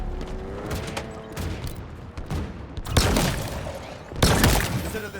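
Three-round burst rifle fire in a Halo game, with two sharp, loud volleys standing out over quieter game sounds and a faint voice early on.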